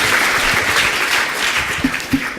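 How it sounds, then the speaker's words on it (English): Audience applause after a founder of LoveFilm is introduced at a talk, a dense steady clatter of many hands lasting throughout, with a couple of sharper individual claps near the end. "Let's a round of applause for this guy"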